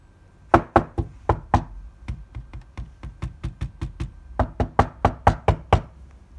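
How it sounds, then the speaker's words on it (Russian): Knuckles knocking on a phone, a rapid series of sharp, close taps in quick bursts with short pauses, alone and fairly loud. "Взяли, постучали."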